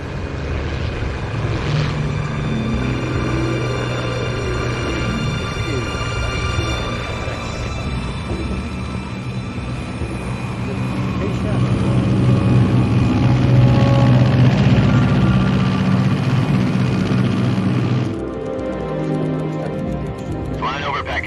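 Steady propeller drone of an aircraft in flight from Metal Gear Solid 3: Snake Eater, cruising at altitude over Pakistan, fills the whole stretch with a continuous loud hum that swells midway with layered game music.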